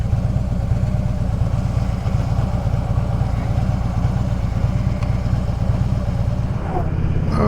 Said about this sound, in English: I guess we'll wait on this car coming here.